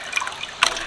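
Water squeezed by hand out of blanched greens, a brief wet trickle and drip followed by one sharper splashy squeeze near the end, close and fairly quiet.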